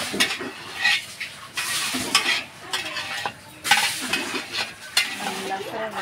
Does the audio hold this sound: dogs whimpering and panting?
no